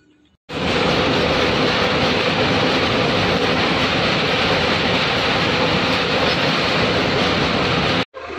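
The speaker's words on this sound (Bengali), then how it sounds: "নির্ধারিত সময় থেকে হীরাকুদের ট্রেন প্রায় 40 মিনিট লেট করে ঢুকলো।" Hirakud Express pulling into the station about 40 minutes late, a loud, steady rumble of wheels and rolling carriages that holds constant for nearly the whole stretch before cutting off briefly at the end.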